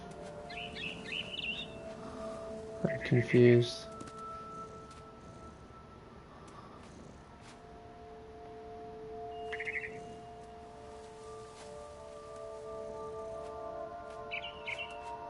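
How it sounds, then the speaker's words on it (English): A barn swallow in the video game What Remains of Edith Finch chirps in short, bright bursts that recur over a low steady ambient hum, with a brief spoken line partway through. "Then I heard chirping outside my window."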